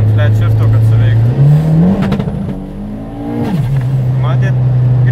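A Toyota Starlet engine with a slipping clutch holds a steady buzzing rev on launch control, then climbs sharply as the clutch is dropped and settles back to a droning hold, loud and close, with someone talking over part of it.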